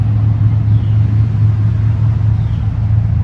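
Steady low engine rumble of a car going by on a busy highway, a continuous droning hum with no clear rise or fade, fairly loud and close.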